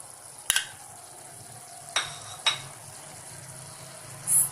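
Onions and green chillies frying with beef in a pan for kachori filling give a quiet, steady sizzle, broken by a few sharp spoon clinks against the pan.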